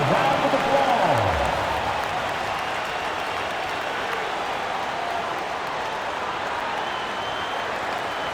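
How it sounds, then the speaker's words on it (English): Crowd noise fills a basketball arena during a Milwaukee Bucks versus Miami Heat game, a steady dense wash of fans applauding and cheering that holds loud throughout, with a brief voice early on. "give yourself a round of applause"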